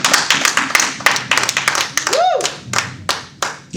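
Church congregation clapping loudly in uneven rhythmic bursts, close and lively, with a voice calling out and a brief whoop rising over the applause.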